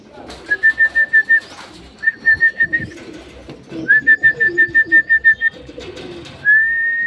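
Birds give repeated rapid whistling trills in bursts, close and clear, over a low rustling background with pigeon-like cooing.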